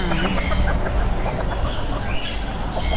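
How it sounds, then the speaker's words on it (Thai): Bantam chickens at a poultry market, six to seven months old, raise repeated squawks and clucks over a steady, busy market din. The calls come in several bursts, close and fairly loud. "อันนี้ก็ไก่แจ้ค่ะไก่แจ้ไก่แจ้เหมือนกันค่ะ"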